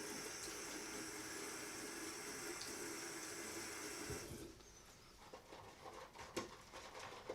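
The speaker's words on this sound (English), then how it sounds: "I am going to add another splash of water." Water runs steadily from a bathroom tap while shave soap is lathered, then cuts off partway through, leaving faint drips and small handling noises in a quiet room.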